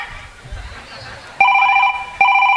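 A mobile phone rings loudly and close by, its electronic ringtone repeating in steady pulses after some brief background chatter.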